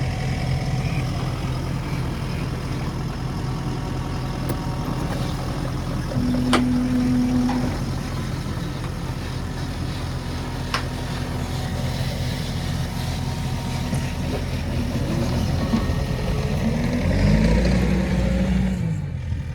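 A tractor engine idles with a steady low rumble throughout, with a few faint clanks and a slight rise in engine note near the end.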